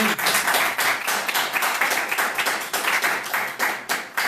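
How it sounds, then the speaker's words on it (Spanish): Church congregation clapping loudly together, a rhythmic unison beat of strong claps repeating steadily throughout, close and full. "Un fuerte aplauso a nuestro Señor Jesucristo"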